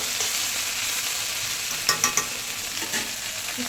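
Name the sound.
okra frying in a pan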